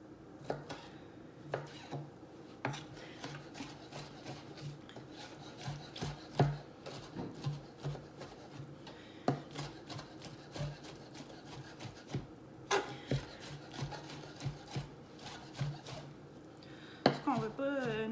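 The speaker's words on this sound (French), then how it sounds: "Fait que je hache grosso modo." Artichokes are chopped coarsely for a dip, rapid knife or chopper strikes and scraping against a board in an irregular rhythm, close and fairly quiet, with brief kitchen clatter.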